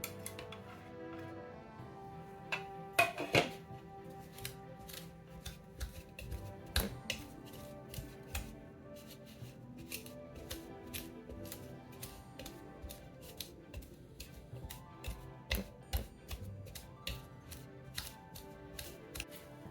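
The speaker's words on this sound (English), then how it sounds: "what I'm going to do is I'm going to use a pastry blender and I'm going to cut it in" A pastry blender cutting cold cubed butter into a flour mixture in a bowl, making sharp repeated metallic clicks and scrapes in an uneven rhythm, close and fairly quiet, with no talk.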